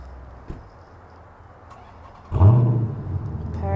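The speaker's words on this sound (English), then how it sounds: "So I'll just go ahead and start it up for you." A 2011 Dodge Challenger SRT8 fires up after a quiet stretch, with a brief starter crank and then a loud, deep V8 roar that settles into a throaty idle close by.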